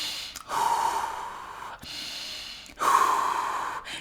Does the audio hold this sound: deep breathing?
yes